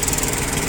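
A Yanmar F15D compact Japanese mini tractor runs its three-cylinder engine, a loud, close, steady drone with a dense rumble and no voices over it.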